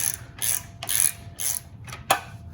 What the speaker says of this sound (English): I'm gonna crack this bolt loose. That's what holds the muffler and the catalytic converter up right underneath your brake pedal.